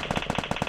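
Rapid gunfire in a mobile shooter game, a quick run of about eight punchy, evenly spaced shots with a metallic ring, loud and close, with no talking.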